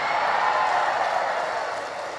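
Dense, steady applause from an audience at a humorous Islamic sermon in Indonesia, a continuous wash of many hands clapping together at an even level for the whole stretch, with no distinct voices rising above it.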